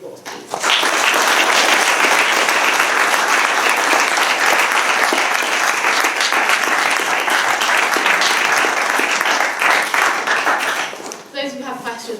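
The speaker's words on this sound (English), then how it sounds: "we can first give Owen a round of applause, please" Sustained loud applause from an audience after an address and Q&A, dense steady clapping filling nearly the whole stretch before tapering at the end, where a voice briefly comes in.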